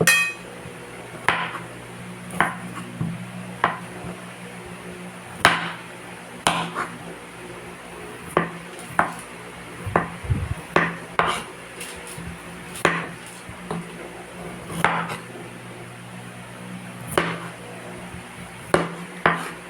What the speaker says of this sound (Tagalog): Mag-slice tayo ng luya.